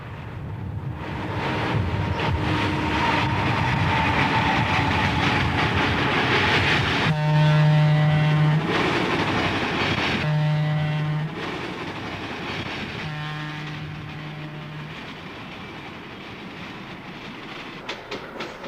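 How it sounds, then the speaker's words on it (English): Pennsylvania Railroad's Keystone, train number 149, rolls loudly past on the southbound track, a sustained rumble and clatter of wheels with several long horn blasts sounding over it, the noise easing slightly as it goes by. "train number 149, the Keystone, rolls by on the southbound track."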